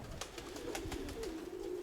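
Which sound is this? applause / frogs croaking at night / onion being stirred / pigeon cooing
pigeon cooing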